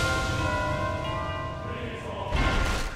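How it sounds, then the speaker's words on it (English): Church bells ring out in an Attack on Titan anime scene, sustained tolling tones layered over a swelling choir and orchestral score, fairly loud and continuous with a brighter surge near the end. "is then replaced by the bells ringing out and the choir that was once in the background"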